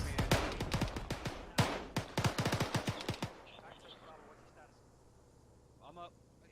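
Rapid bursts of automatic gunfire in a military combat video game, dense and loud for about three seconds, then fading into low background rumble with faint distant sounds.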